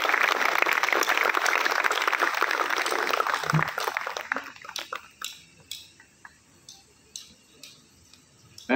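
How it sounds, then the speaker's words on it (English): Applause from an audience at a Navy Day performance, loud and sustained for about four seconds, then thinning into scattered, sporadic claps. "A huge round of applause for them."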